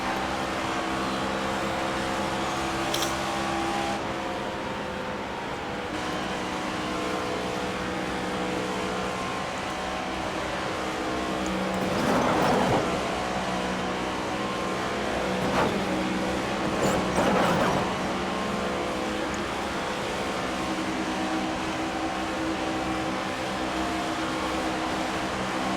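Race cars racing at Las Vegas, a constant loud engine drone that holds across the whole stretch with a couple of swelling passes as cars go by, no talk over it.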